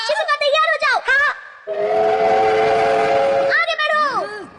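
A cartoon train from a human railroad set gadget in a Hindi-dubbed Doraemon episode sounds a loud, steady whistle tone with rumbling motion beneath, framed by warbling, whistle-like cartoon effects before and after.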